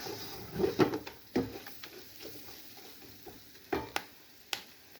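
Mint leaves being sautéed in a pan for chicken biryani: a soft background sizzle broken by irregular scrapes and knocks of a spoon against the pan, close and fairly quiet.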